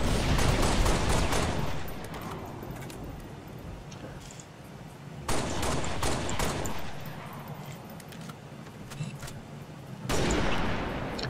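Pistol fire rings out in the video game Halo Reach, arriving in three loud, dense clusters of rapid shots with quieter echoing battle noise in between.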